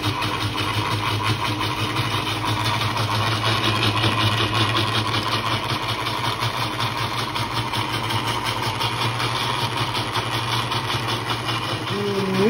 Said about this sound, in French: on met le couvercle et on va broyer donc pendant 2 minutes